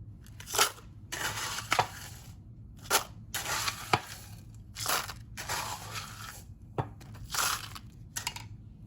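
Ice cubes clatter and crunch into a glass for a summer tequila drink, several separate bursts of rattling and cracking, close and fairly loud, with brief quiet gaps between scoops.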